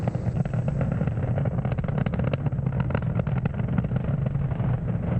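SpaceX Falcon 9 rocket with Merlin 1D engines firing during a Starlink launch ascent, a dense, steady crackling roar with rapid rough pulsing, loud and continuous throughout.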